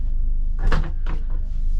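A train's shower door slides along its track with a short rumbling scrape, then a second softer slide, over a steady low mechanical hum.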